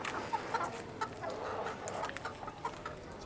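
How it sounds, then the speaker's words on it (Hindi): Several hens clucking in short, uneven bursts from nearby, overlapping one another as they wait to be let out of their coop. "चलिए मुर्गियों को खोलते हैं। अभी ये बेताब है बाहर आने के लिए।"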